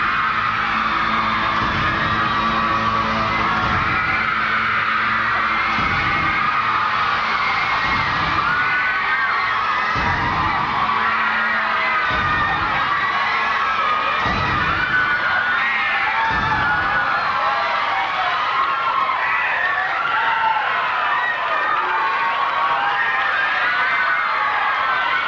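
Big television studio audience at a Menudo reunion special cheering, screaming and applauding continuously, a loud sustained roar of young voices with rhythmic thumps underneath through the first part.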